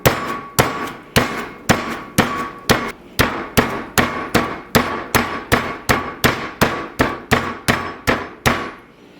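A large chicken breast is pounded thin with a meat mallet, about twenty sharp, evenly spaced thwacks with a slight metallic ring, loud and close with no talking.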